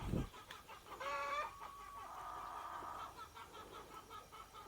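Hens clucking nearby in a coop on a small Thai farm, a few drawn-out, wavering calls and short clucks over quiet outdoor background.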